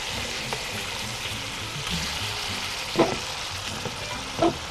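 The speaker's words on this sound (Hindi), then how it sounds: "मछली को मैं पलट रही हूँ" Fish fries in a pan with a steady hiss and crackle of hot oil, broken by a couple of soft scraping clatters as the pieces are turned, close and fairly quiet.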